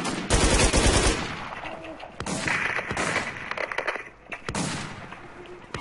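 Rapid gunfire bursts and shotgun blasts in the survival video game RigorZ, several loud clustered volleys separated by short pauses, with someone talking in between.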